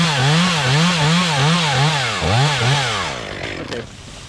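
A chainsaw cuts into a big oak during a rigging job, its engine revving up and down in repeated surges close by, then the cut ends and the saw fades into rustling noise.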